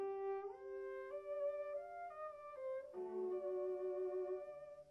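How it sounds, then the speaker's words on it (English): Cello melody with muffled, dulled highs as heard with hearing loss, a smooth bowed line of sustained notes that change pitch every half second or so, steady and fairly close, with no voices. "this is what a person with normal hearing would hear when sitting next to a cello being played"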